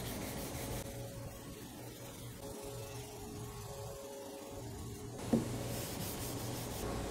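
Sanding 1K rattle-can primer on a car fender with 320-grit sandpaper, a steady close rasping rub that runs continuously throughout, with a brief sharper scrape near the end and no talking.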